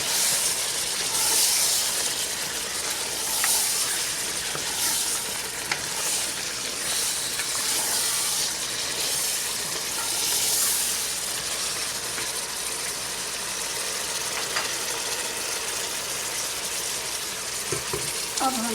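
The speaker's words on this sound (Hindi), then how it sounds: "बम्बई बिरयानी मसाला डाल के फिर हम इसको भूनेंगे।" Bombay biryani masala roasting in a pan, a steady close sizzle and hiss with scraping stirs running throughout, no voices.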